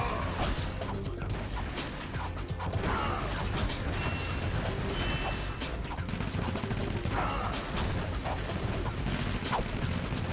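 Bomb glove grenades from Ratchet and Clank bursting against enemies, a busy stream of crashing, clanking blasts and mechanical clatter under dense game sound.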